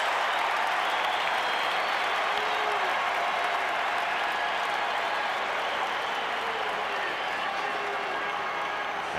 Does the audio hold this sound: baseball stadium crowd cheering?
yes